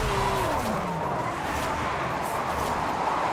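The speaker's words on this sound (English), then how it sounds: "But for a Lamborghini to be drifting" Lamborghini Espada drifting in Forza Horizon 5, a steady engine roar with faint tire squeal, continuous and fairly loud with no talk over it.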